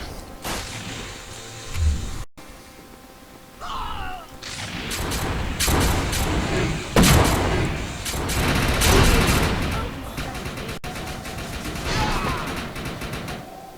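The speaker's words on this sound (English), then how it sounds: "Somebody's shooting at somebody, but I don't see where" Gunfire in the video game Arkbreaker: a busy battle mix of repeated shots and bursts with mechanical clatter, loud and continuous across the stretch, with some quieter gaps early on.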